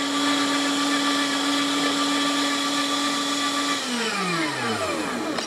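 An electric meat grinder grinds kielbasa meat, its motor whirring loudly and steadily for several seconds before spinning down in a falling whine near the end.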